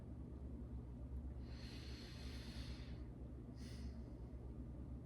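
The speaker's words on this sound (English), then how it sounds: "Big yawn, been a big day." A person lets out a big, breathy yawn up close: one long drawn exhale followed by a shorter second breath, over a steady low background hum, with no talking.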